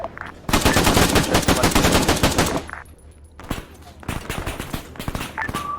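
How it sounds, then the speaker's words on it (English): Heavy automatic gunfire rattles in a military video game campaign, dense machine-gun bursts close and loud, a short lull in the middle, then more rapid shots resuming, with voices speaking faintly underneath. "So I hear a bunch of bullets"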